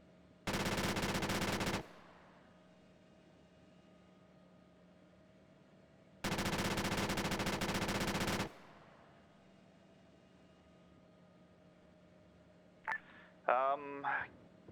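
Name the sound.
machine gun fire in the video game Arma 3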